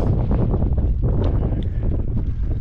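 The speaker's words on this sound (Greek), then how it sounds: "Πολύ ο αέρας." Strong gusty wind buffets the microphone outdoors during a partridge hunt with dogs, a loud continuous low rumble with no talk.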